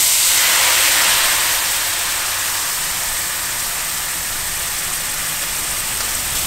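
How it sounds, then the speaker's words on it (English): Pinot Grigio white wine poured into a hot pan to deglaze it sends up a loud, steady sizzling hiss that is strongest at first and eases slightly as it keeps going, with no voices. "Now, we're gonna deglaze our pan with some white wine, some Pinot Grigio."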